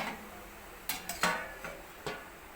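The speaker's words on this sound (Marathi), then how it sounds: "आणि आपण झाकण ठेवून देऊया." A metal lid set down on a pan of cooking pitla, a Maharashtrian gram-flour dish, giving a few sharp clinks and taps spread over a couple of seconds, close and fairly loud against a quiet background.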